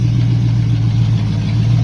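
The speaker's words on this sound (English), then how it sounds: "Engine's warming up again." A Crown Victoria with a 460 engine idling as it warms up, a steady, loud low rumble throughout with no revving.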